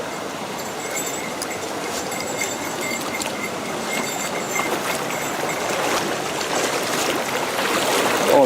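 A person wades on foot across a freezing mountain stream in winter, with steady, loud rushing water throughout that swells slightly near the end and no talking.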